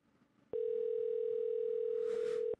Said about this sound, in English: He hung up the phone.